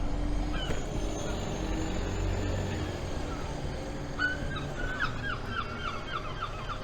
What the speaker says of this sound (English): them seagulls are noisy today